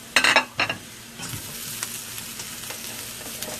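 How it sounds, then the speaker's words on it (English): Bok choy and pea pods stir-frying in a hot pan: a few loud sizzling bursts as the vegetables hit the oil, settling into a steady, softer crackle. "Okay, and then I'll add that bok choy in there."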